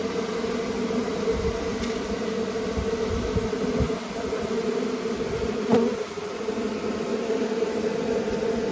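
Bees swarm and cluster around a beehive built inside a tire, a dense continuous buzz close by and steady throughout, with faint handling noises mixed in.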